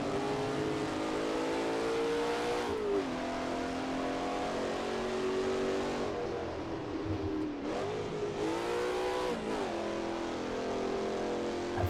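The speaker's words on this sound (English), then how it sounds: "Feels like an over rev in second gear, but third gear feels too low." A race car engine in the Assetto Corsa driving game screams at high revs in second gear, sustained and loud, with brief dips and climbs as the driver lifts and gets back on the throttle.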